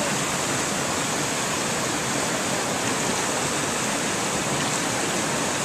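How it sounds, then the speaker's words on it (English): A river rushes by at a field site in February, a loud, steady broadband hiss of flowing water filling the whole stretch without pause. "Please be careful getting in and out of your river."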